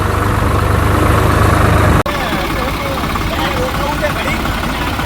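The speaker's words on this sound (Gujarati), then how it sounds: "ટ્રેક્ટર ચલાવી રહ્યા છે" A tractor's engine runs loudly and steadily as it is driven through a flooded village area, with the low drone continuing after a brief break in the sound midway.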